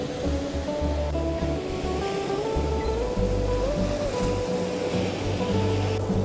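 Ocean surf rolls steadily onto a beach where surfers and families are in the water, a continuous loud wash of breaking waves with a low rumble and no voices.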